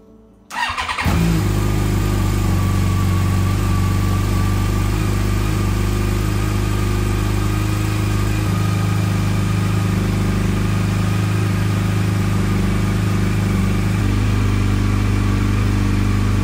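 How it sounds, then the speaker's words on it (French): Yamaha FJR1300 motorcycle in the workshop for a throttle body sync, cranking and firing up after a moment of silence, then settling into a loud, steady, close idle as it warms up. "on va commencer par démarrer la moto puis la réchauffer un petit peu."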